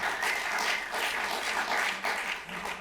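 Sustained audience applause at a chemtrails and geoengineering awareness forum in San Francisco, a dense steady wash of many hands clapping throughout with a brief dip near the end.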